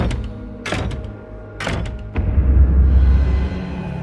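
A room door gives a couple of sharp knocks or thunks, followed by a heavier scraping rumble as it settles, close by and fairly loud with nothing else around it.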